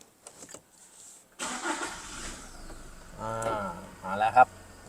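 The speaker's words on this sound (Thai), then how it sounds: "เดี๋ยวผมจะลองสตาร์ทเครื่องให้ชมกันนะครับ" A 2022 Toyota Hilux Revo Prerunner 2.4 High automatic pickup starts up after a brief quiet pause, its engine catching with a broad burst and settling into a steady idle, with someone talking over it.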